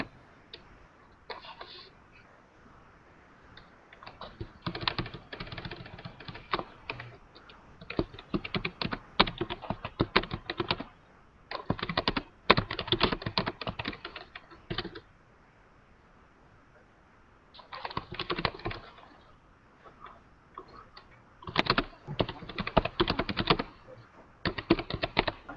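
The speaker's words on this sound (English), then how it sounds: "I can hear some typing." Bursts of rapid keyboard typing come and go, with pauses between flurries of clicking keys, close and fairly quiet.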